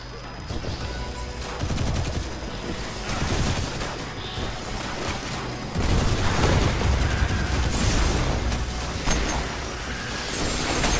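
Rapid bursts of automatic gunfire in Destiny 2 crackle repeatedly, mixed with booms and impacts, continuing without letup.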